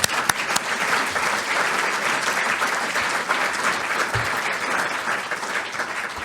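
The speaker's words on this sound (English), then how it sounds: "if you could just join me in a round of applause to them" A room full of guests at a morning mixer fundraiser gives a sustained round of applause for staff, dense and even clapping at steady volume from start to finish, with no voices over it.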